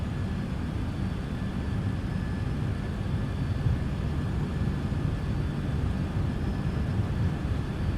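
A UPS MD-11 on its takeoff roll in Microsoft Flight Simulator 2024, a steady, loud, broadband engine roar with low rumble that holds constant throughout, no talk.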